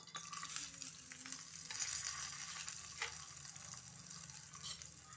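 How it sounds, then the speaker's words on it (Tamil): Quiet, steady sizzling of finely chopped onions frying in oil, with occasional stirring scrapes, no voices. "இப்போ சின்ன சின்னதாக நறுக்குன வெங்காயம் போட்டுக்கலாம்."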